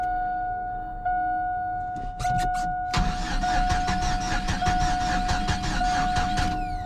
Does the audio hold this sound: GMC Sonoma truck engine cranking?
yes